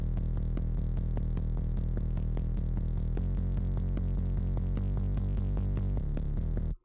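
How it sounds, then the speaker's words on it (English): A deep synth bass line made in Reaktor holds low notes under a steady rhythmic pulse of ticking hits, then stops abruptly near the end. "The next part is this like low bass"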